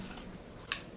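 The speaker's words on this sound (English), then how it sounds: "we're just gonna go in from one side with our scissors" Scissors snip through a shirt's fabric up close, two or three quick crisp cuts in a quiet room.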